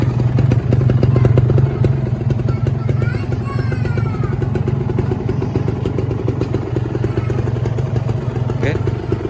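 A 2015 Kawasaki Ninja R two-stroke motorcycle engine runs steadily nearby with a buzzing, crackly idle and faint clattering, continuous throughout, while a voice talks over it.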